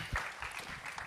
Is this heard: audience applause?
yes